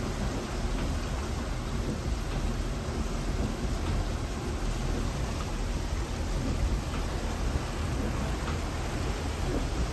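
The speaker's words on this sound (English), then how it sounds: "Just heard thunder." A low rumble of thunder rolls beneath steady heavy rainfall during a storm on Jekyll Island, Georgia, a constant wash of noise with no voices.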